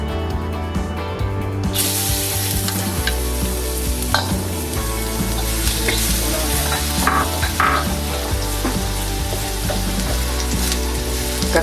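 Garlic fries in hot oil in a pan for tinola sa gata, loud continuous sizzling with scraping stir strokes, the hiss flaring as the garlic goes in and staying close and steady.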